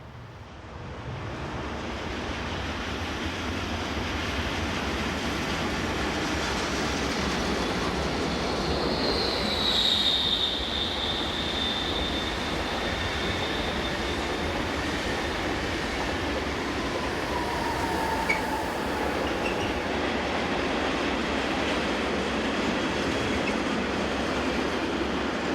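RE66 locomotive number 11657 rolls past and is passed by train 460033, a continuous loud rumble of wheels on rails with a brief high squeal partway through.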